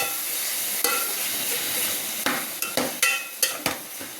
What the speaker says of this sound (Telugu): టమోటా ముక్కలు తర్వాత దోసకాయ ముక్కలు వేసాం కదా బాగా కలిపెట్టుకోవాలి